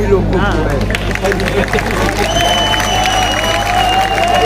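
A large crowd at a Samajwadi Party political rally in Bhiwandi makes steady cheering and babble, with a low hum running underneath. Someone talks loudly over it throughout.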